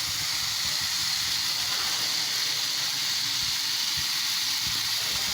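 Ginger dropped into a frying turmeric spice paste brings a loud, continuous close-up sizzle and hiss with faint low stirring knocks underneath.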